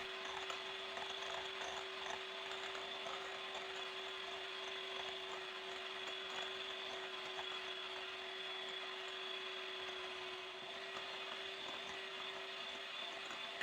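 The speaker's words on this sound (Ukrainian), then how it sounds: "Починаємо збивати міксером і потрохи всипати цукор." An electric mixer beats eggs while sugar is added, giving a steady, quiet motor whine that holds one even pitch throughout.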